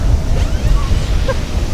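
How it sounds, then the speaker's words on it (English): Strong wind buffets the microphone with a low, constant rumble, gusting unevenly throughout. "Yeah, it's windy, folks. It's a little windy."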